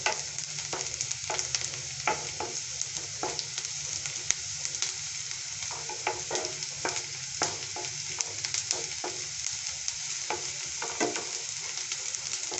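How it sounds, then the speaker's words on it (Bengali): Onions for spicy Maggi fry in a pan, sizzling steadily and loudly throughout. Regular stirring strokes and scrapes recur every second or so, with no talking. "পেঁয়াজটা একটু ভালোভাবে ভাজতে হবে।"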